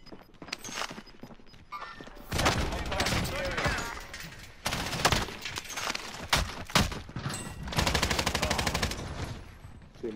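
Bursts of rapid automatic gunfire in an online multiplayer shooter come in loud, repeated volleys with short pauses between them, filling most of the stretch.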